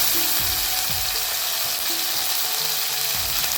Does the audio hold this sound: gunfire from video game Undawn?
no